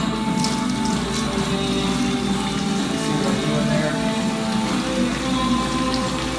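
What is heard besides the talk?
water running from a sink faucet made of tires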